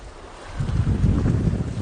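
Wind gusting over seashore rocks at a rocky tidal shore, a rough low rumble of wind noise that builds from quiet to a steady buffeting roar partway through, with no talk.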